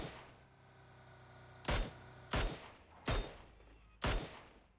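Four sharp gunshots ring out in PUBG Mobile, spaced roughly evenly over a few seconds, loud and isolated against a quiet game background.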